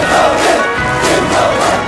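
A large crowd of soldiers lets out a loud, roaring massed cheer after a group photo, a sustained chorus of voices that swells and pulses in waves across the whole stretch.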